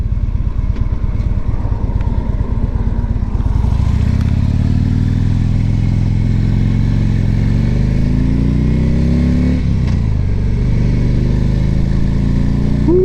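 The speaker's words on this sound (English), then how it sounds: "Harleys always sound nice." A 2011 Harley-Davidson Ultra Classic Limited rumbles while being ridden, starting with a loping idle-like putter before the V-twin engine pulls away and revs up through the gears, loud and close throughout.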